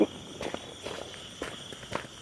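Footsteps tread slowly over slippery, rain-wet ground at night in the countryside, a few soft, evenly spaced steps close by with faint insect chirring in the background.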